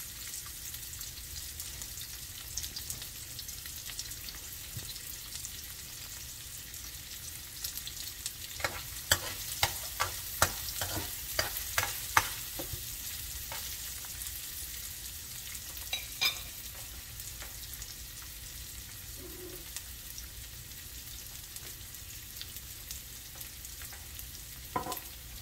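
Chopped onion fries quietly in a pan, a low, faint sizzle running throughout, while a cluster of sharp utensil clicks and scrapes from stirring comes in the middle before things settle back to the gentle hiss.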